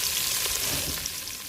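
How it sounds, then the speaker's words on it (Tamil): Chopped onions hit hot oil with whole spices in a pan for beef biryani, giving a steady, close, hissing sizzle that holds at an even level throughout. "நம்மளுக்கு எண்ணெய் சூடாயிருச்சு, நம்ம பட்டை வகைகளை சேர்த்துக்கலாங்க. அடுத்தது நம்ம வெட்டி வச்ச வெங்காயத்தை சேர்த்துக்கிறோங்க."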